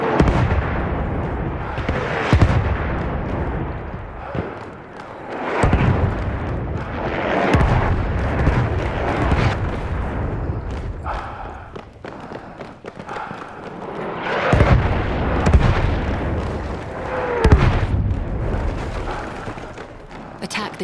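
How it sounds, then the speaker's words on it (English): An enemy artillery barrage thunders in Battlefield 1: a series of heavy booming shell impacts every few seconds, loud and rumbling, with rolling debris and battlefield noise filling the gaps between blasts. "Wait for the enemy artillery barrage to stop firing."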